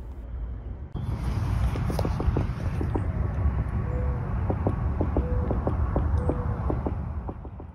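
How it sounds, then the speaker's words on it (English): Irregular tapping from inside a tree branch outdoors, clusters of sharp, fairly close knocks in uneven Morse-like bursts over a steady background hiss. "I was hearing this strange tapping noise that sounded like Morse code"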